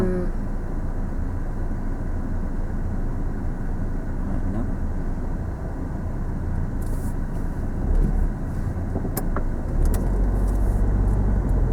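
Road vehicles pass through a signal-controlled pedestrian crossing, a steady near rumble of engines and tyres running throughout, swelling as cars go by, with brief talk in the background.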